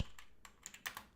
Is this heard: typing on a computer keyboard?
yes